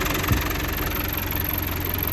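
A New Holland 850 tractor engine runs steadily at 2200 RPM driving a rotavator, a loud continuous diesel drone with a rhythmic knock.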